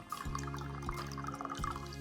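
Half a cup of red wine vinegar poured for quick pickled red onions, a short steady trickle of liquid with a bright gurgling tone and small splashes, close by.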